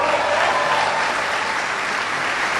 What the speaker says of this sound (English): Give Joe a big round of applause.